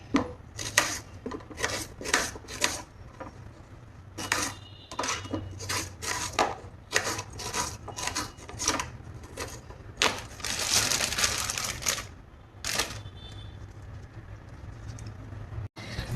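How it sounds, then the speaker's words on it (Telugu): Onion and green chillies are chopped on a board with a knife, giving sharp, close knocks in quick irregular runs broken by brief pauses and scraping. "ఇప్పుడైతే మనం ఆనియన్ అండ్ పచ్చిమిర్చి కట్ చేసుకుందాం"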